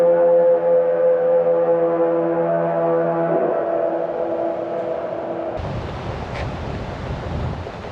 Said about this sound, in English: a signal blast could be heard for a distance of 4 to 5 miles